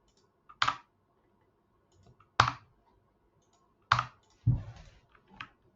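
Mouse clicks and a delete key press in an image editor: four sharp, close clicks spaced irregularly, with near silence between them.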